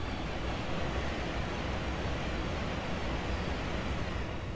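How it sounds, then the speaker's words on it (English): Steady, continuous running noise of an IC3 train in Train Simulator 2019, a dense broadband rumble and hiss holding at an even level throughout with no voices. "I'm not a big fan of the run sounds on this train"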